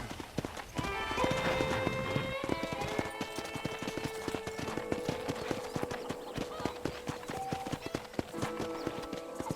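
Horse hooves clip-clopping in the Red Dead video game, a steady walking rhythm of close, distinct clops over an ambient musical drone and tonal background.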